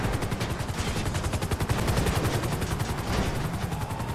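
Rapid police gunfire aimed at a car in a video game, a dense, steady stream of shots with no pauses, loud and close over a continuous low rumble.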